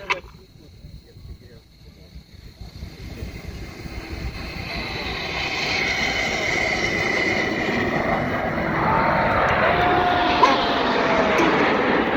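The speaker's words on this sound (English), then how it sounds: "that's all 9 aircraft breaking into the circuit from the Stars and Stripes arrival" Nine Red Arrows aerobatic jets at the New York International Airshow sweep overhead in formation, a roar that swells from faint to loud and stays sustained, with a commentator talking over it.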